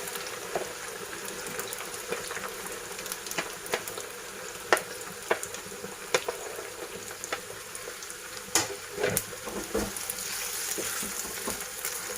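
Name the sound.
okra frying in oil in a wok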